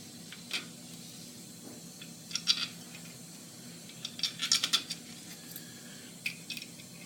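An inspection part dropped onto three locating spheres on a plate, giving small, faint metallic clicks and clinks in scattered bursts, with a cluster of light taps near the middle and a few isolated ticks, otherwise quiet.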